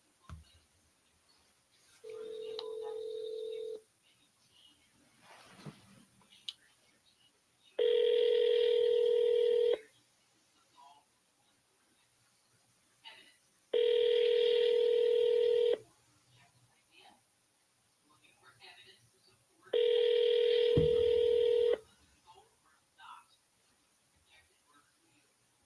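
Telephone keypad tones sound as a call is dialed: several loud, steady electronic beeps of about two seconds each, spaced at regular intervals, with faint talk and background noise between them.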